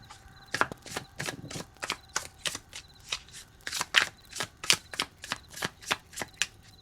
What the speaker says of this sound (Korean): 그러면 카드를 뽑아볼게요.